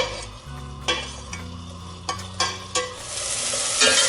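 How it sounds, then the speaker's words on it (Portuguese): Three medium cloves of minced garlic sizzle in olive oil in a pan while being stirred, with repeated utensil scrapes and clinks over a steady frying hiss, close up and without talking. "E aí eu vou dourar um pouquinho o alho."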